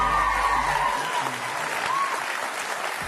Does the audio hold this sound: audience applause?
yes